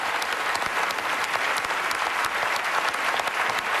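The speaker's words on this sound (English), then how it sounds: "Give her a big round of applause as we send you off." A studio audience at a televised singing competition claps in a dense, steady burst of applause, loud and sustained across the whole stretch with no letup and no voices standing out.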